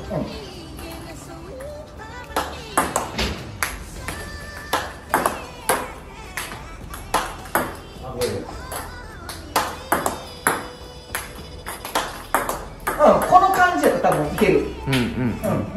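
Table tennis ball striking Nittaku paddle rubber in a rally, sharp repeated pings and taps at an irregular rhythm, close and fairly loud, with voices talking in between and a busier burst of hits near the end.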